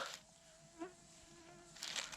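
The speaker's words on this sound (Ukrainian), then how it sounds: "Ох, і комарів сьогодні" Mosquitoes whine faintly in a forest, thin high-pitched buzzing that drifts close and away in short passes over a quiet background, no talking.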